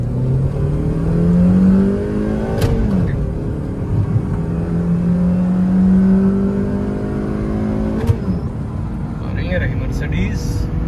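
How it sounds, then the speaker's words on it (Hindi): Stage 2 Mercedes car accelerating hard from about 20 km/h in first gear during a drag race against a Civic, its engine note climbing steadily through two gear changes, heard close up from inside the cabin with talk over it. "पहला गियर मैंने लगा दिया, 20 की स्पीड पे मैं एक्सेलरेट करना शुरू कर दूंगा।"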